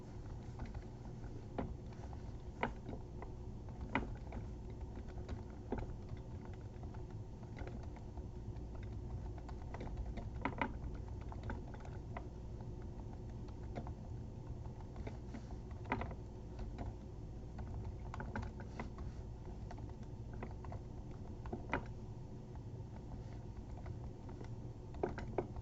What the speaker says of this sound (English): So what we're going to type is the text that belongs here.